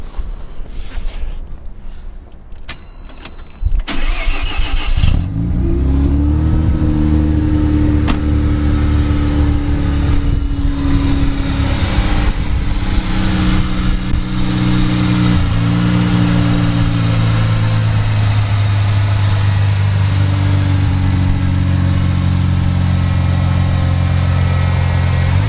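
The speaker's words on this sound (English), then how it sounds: "I'll fire it up while I've got the bonnet open." A 2000 Mazda RX7 Type RS rotary at a Japanese car auction cranks over briefly, fires up, then revs sharply several times before settling into a loud, steady, lumpy idle, recorded close with the bonnet open.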